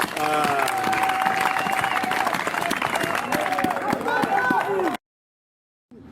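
A church congregation cheers and claps loudly for Jesus, with dense applause and shouting voices filling the space before the sound cuts off abruptly into silence near the end.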